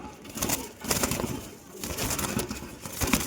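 Teddy and golden pigeons kept in a loft, just let outside for the first time, flutter restlessly and coo in a busy, continuous mix of wingbeats and soft calls that stays close and fairly steady throughout.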